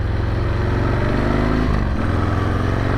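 A 1998 Harley-Davidson Sportster engine idles loud and close, a steady throbbing rumble with a brief dip in pitch near the end, and no voices.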